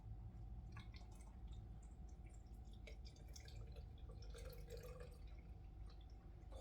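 Water is poured into a measuring container during a liquid-measurement demonstration, a steady, faint trickle and splash with light dripping throughout.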